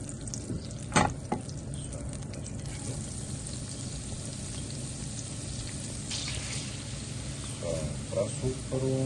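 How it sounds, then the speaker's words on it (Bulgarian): Peppers and onion frying in a pan, a soft steady sizzle with a few clanks and stirring sounds. "слагаме чушките да се задушават"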